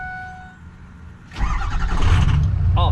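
A recently rebuilt truck engine starts cold with no block heater plugged in, cranking briefly before catching and settling into a loud, rumbling idle nearby, with no talking.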